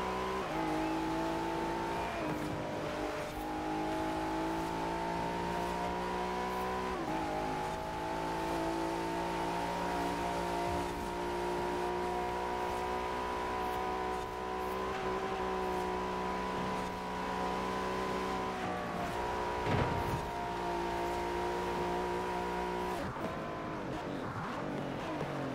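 A car in the racing game Forza Horizon 4 drives and revs with a steady, loud engine drone that shifts pitch across gear changes, joined by brief tire noise.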